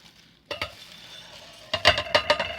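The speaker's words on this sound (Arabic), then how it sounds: "احط العدس بتاعي اهو" Dry yellow lentils are tipped into a cooking pot for an old-style lentil and okra dish, giving a short rattling pour followed by a louder cluster of gritty scattering bursts close by, with no talking.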